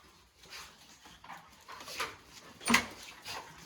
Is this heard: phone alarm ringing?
no